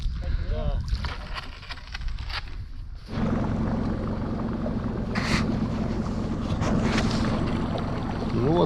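A motorboat running on a river, its steady engine drone rising after the first few seconds to a constant hum with wind and water noise, while people talk quietly early on.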